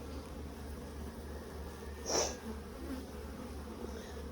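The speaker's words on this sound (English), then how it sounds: "now they're bearding because I've got their comb outside of the hive" Honeybees bearding outside a hive hum as a steady, dense drone, with one bee buzzing louder past up close midway, and no voices.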